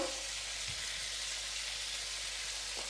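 Spring onion and vegetables fry in a pan with a continuous dense sizzle, nearby and fairly loud, with one or two faint stirring clinks and no voice.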